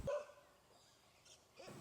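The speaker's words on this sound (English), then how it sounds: "Here we see John walking down a street with several barking dogs." Dogs barking on a street, a short bark at the start and another burst near the end, with a faint yip in the middle; moderately distant and not very loud.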